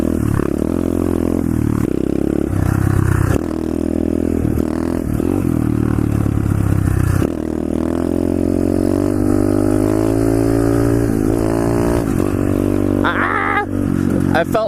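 A pit bike engine revs and drones loudly while riding through an underground tunnel, the pitch rising and falling with throttle changes, echoing close up with some clatter.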